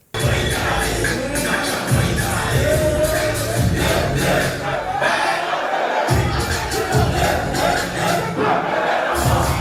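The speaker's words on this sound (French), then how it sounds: "sous les applaudissements d'un public venu nombreux partager un moment de détente, de culture et de convivialité" A large outdoor crowd cheers, shouts and claps at the official launch of a holiday festival in Natitingou, a loud, sustained roar of voices with bursts of applause and thumping sounds throughout.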